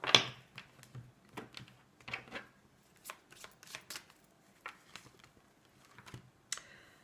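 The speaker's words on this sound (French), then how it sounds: "Je vais quand même tirer quelques cartes pour l'amour, pour le sentimental durant cette semaine." Tarot cards being shuffled by hand, a series of soft, irregular riffling and slapping bursts spaced through the clip, close and fairly quiet with no voice.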